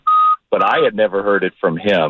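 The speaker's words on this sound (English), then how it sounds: "Sorry about that beeping in the background." Telephone-style electronic beep sounding briefly at the start, a steady tone followed by someone speaking in a broadcast setting.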